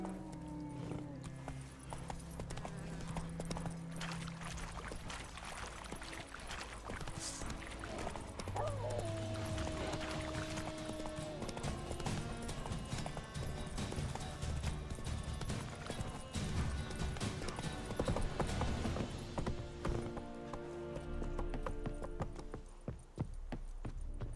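Hoofbeats of Geralt's horse Roach galloping in The Witcher 3 video game, a steady clip-clop running under game music and effects, with a voice speaking briefly.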